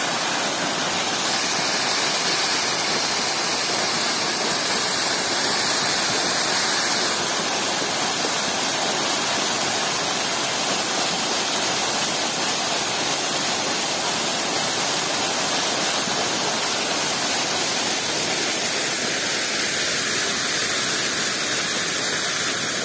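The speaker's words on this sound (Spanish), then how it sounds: "Aquí como pueden ver, también tiene forma de cascada por la forma que tienen las piedras." A river cascades over stones at night in a steady, loud, unbroken rush of water that fills the whole stretch without pause, with no voices over it.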